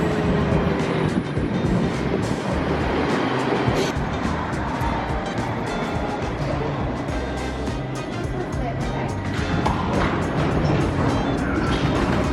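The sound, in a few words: U6 subway train arriving at station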